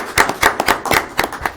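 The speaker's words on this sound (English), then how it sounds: "so I want to clap for them and thank them" A few people clapping at a city commission meeting, their claps loud, close and irregular in a short uneven burst, with no talk over them.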